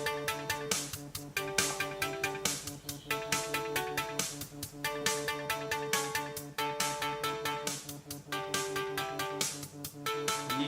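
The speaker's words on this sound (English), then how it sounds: "You gonna pick up the phone?" A phone ringtone plays a bright, looping electronic melody, repeating its short musical phrase several times at a steady rhythm with no voices over it.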